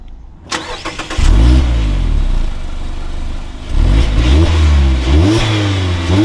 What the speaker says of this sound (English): And then now inside the 2024 Mazda Miata, keep my foot on the brake.